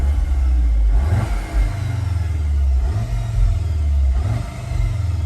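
An Audi S3 in dynamic mode revs repeatedly, its deepened exhaust note rising and falling in several strong pulses, loud and close with no talking.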